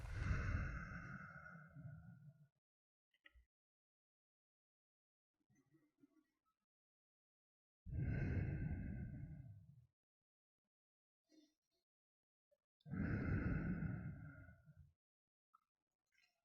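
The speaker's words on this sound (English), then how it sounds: "Breathe in, breathe out." Slow meditative breathing in and out during an ASMR meditation session: three long, soft, airy exhalations spaced several seconds apart, heard close with near silence between them.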